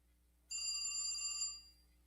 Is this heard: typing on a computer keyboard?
no